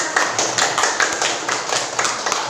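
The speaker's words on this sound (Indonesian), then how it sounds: "Ayo diberikan aplaus dulu untuk berdua" Two students in a classroom receive applause: a steady patter of many hands clapping at close range, dense and even for a few seconds with no talking.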